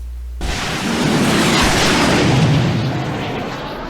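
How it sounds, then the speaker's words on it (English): Rockets launching in the video game Fallout New Vegas: a loud, sustained roaring rush that starts abruptly after a brief quiet moment and holds steady for several seconds before easing slightly. "and launched the rockets"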